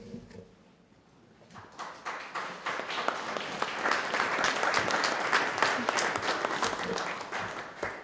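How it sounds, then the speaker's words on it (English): Outdoor crowd applause at a 2017 Veterans Day ceremony in Wareham, starting faint and swelling into sustained, dense clapping that holds to the end. "I'm assuming that that applause was for John"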